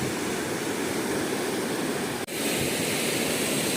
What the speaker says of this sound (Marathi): बघा किती पाणी येत आहे आणि या दोन नळ्यामधूनच एवढं पाणी मावरायलं